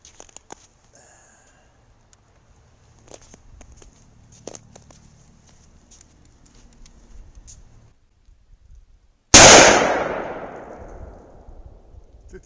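A single loud, sharp .357 Magnum revolver shot fired over a chronograph cracks near the end, decaying over a second or so after a long stretch of quiet handling noises.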